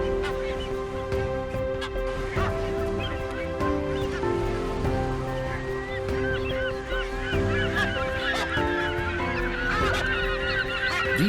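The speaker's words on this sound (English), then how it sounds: "A breeding colony is seldom, if ever, quiet, as the incessant high-pitched calls sound out." A dense, constant chorus of a sooty tern breeding colony calling from all around, harsh honking cries overlapping without pause, with no voices.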